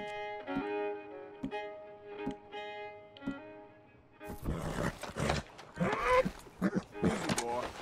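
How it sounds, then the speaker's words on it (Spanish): A bear roars in Red Dead Redemption 2, starting with harmonic, repeated calls and then bursting into a loud, broad growl in the second half. Speech is also picked up in the clip. "Escucha un oso."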